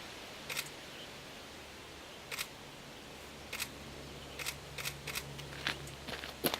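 Camera shutter clicks while photographing a blurred background, a series of sharp, quiet snaps spaced irregularly, sparse at first and then quicker and closer together, over a faint low hum.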